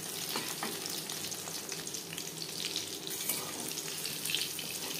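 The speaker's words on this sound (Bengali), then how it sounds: "উল্টে পাল্টে ক্রিস্পি করে ভাজা হয়ে গেছে।" Prawn chops fry in a pan with a continuous crackling sizzle that stays close and fairly even throughout.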